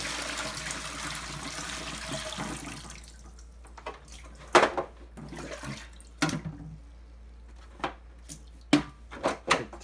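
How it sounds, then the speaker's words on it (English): Water pours and splashes steadily for a few seconds as it is dumped out of a PetSafe Drinkwell Platinum pet fountain, then gives way to scattered drips, clunks and small splashes from handling the fountain. "dump all the water out"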